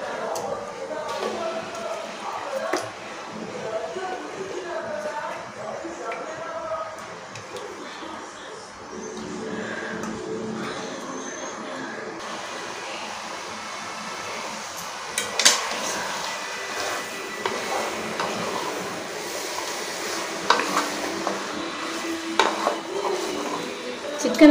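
Cleaned chicken added to sautéed masala in a pan for Tamil chicken kulambu and stirred, with clinks and scrapes of a utensil against the pan, occasional pigeons cooing nearby and a voice talking at times.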